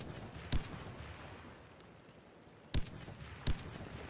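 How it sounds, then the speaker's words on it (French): Sharp thuds in the video game Warface, probably grenade blasts: three short loud impacts, one early and two close together near the end, over a steady background rumble. "Grenade à la fenêtre."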